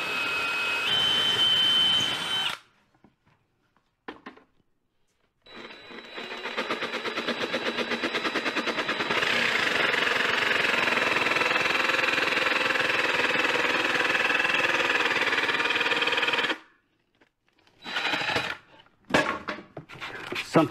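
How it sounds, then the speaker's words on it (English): A power drill bores a hole in a workpiece for a kitbashed spaceship model, then a jigsaw cuts with a loud, steady, buzzing rasp that runs for about ten seconds before stopping, followed by short bursts. "I'll just start by drilling a hole so I can get the jigsaw in somewhere."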